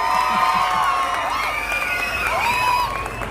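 A Navratri festival audience at a district dance competition in Kolhar Bhagwatipur cheers and claps loudly, with whoops and high shouts from many voices sustained for over three seconds.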